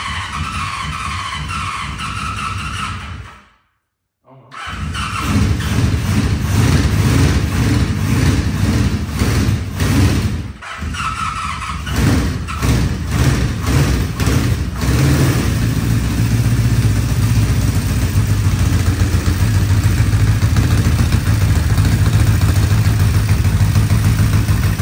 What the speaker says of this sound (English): here's a video of the first startup in nearly 20 years.